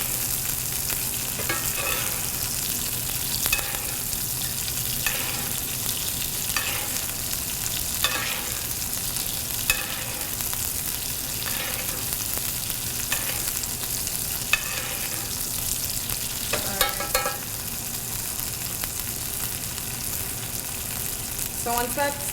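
Steak pan-searing and basting in a hot pan, with a steady loud sizzle and frying crackle throughout, punctuated by regular spoon-stirring scrapes, no talk.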